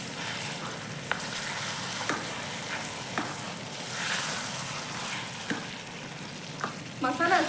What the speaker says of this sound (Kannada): ಮಸಾಲೆ ಹಸಿ ವಾಸನೆ ಹೋಗೋ ತನಕ ಫ್ರೈ ಮಾಡ್ಕೋಬೇಕು.